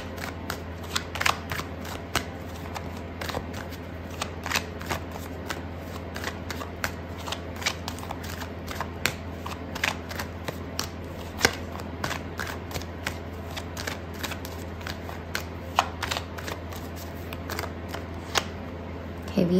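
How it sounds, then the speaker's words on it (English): Tarot cards being shuffled and pulled from the deck for a love reading, giving a continuous run of soft, crisp riffling flicks and taps close by, with no talking over them. "so I'm going to pull out another card for you."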